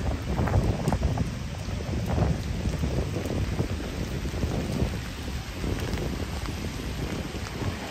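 Steady rain pours during a walk through Central Park in Midtown Manhattan, New York, among spring cherry blossoms, a dense constant hiss of drops close by with low rumbling wind, and no talking.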